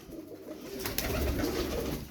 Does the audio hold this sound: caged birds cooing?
yes